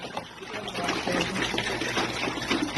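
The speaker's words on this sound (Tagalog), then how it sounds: "ibuhos po natin ang 14 liters ng tubig sa balde" Rainwater poured from a container into a bucket, a steady close splashing and gurgling stream that swells slightly partway through, with no speech over it.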